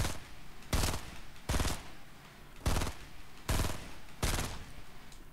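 Repeated bursts of gunfire in the Fortnite battle royale video game, about five loud broadband volleys spaced roughly a second apart, standing out over a steady background hum.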